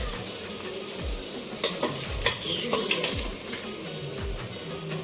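Matar paneer curry being stirred and fried in a pan: a spoon scrapes and knocks against the pot in a repeating rhythm over a steady sizzle, close and clear with no talk.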